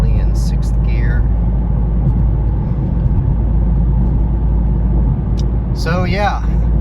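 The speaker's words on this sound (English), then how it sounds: "I'm just find 6th gear and kind of cruise along very lightly in 6th gear." A 2023 Toyota GR Corolla cruises lightly in sixth gear with a steady, low engine and road drone throughout. A voice speaks briefly near the start and again near the end.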